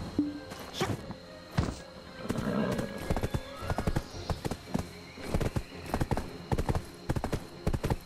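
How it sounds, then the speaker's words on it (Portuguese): A horse in the video game Black Desert, hoofbeats thudding in a fast uneven rhythm, close and loud, with a clear neigh partway through. "Meu cavalinho tá aqui."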